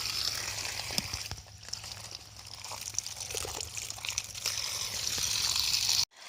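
Water running from a pipe in a rural field, a steady close trickling and pouring that holds throughout before cutting off abruptly at the end.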